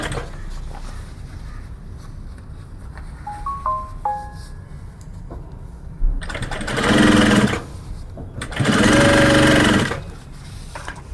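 A sewing machine stitches along a folded fabric bag strap in two loud bursts of fast, steady whirring, separated by a pause, with quieter handling sounds before.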